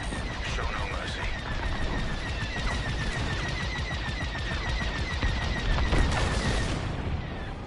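Starfighter cannons in the space combat game Star Wars Squadrons fire in loud, rapid repeating bursts over a constant roar of engines and explosions, with no pause throughout.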